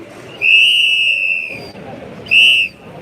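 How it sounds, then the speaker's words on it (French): A Brazilian carnival whistle with three mouthpieces blows a loud, shrill, steady blast for about a second, then a second shorter blast, close by over faint crowd babble at a street protest. "C'est un sifflet de carnaval d'origine."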